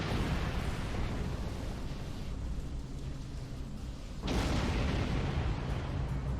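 In the Star Trek Online video game, a torpedo strikes a ship, a sudden booming burst rising out of a constant roaring space-battle background, loud and close.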